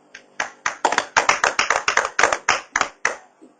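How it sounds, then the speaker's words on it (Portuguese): A church congregation claps in unison for Jesus, about a dozen sharp, evenly spaced loud claps in a quick rhythmic burst, with no talk over them. "Palmas para o Senhor Jesus."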